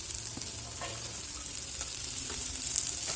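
Chopped onion and spices frying in hot oil, a continuous close sizzle with soft crackles and occasional stirring scrapes, steady and fairly loud throughout.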